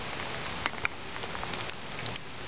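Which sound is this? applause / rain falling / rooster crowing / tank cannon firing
rain falling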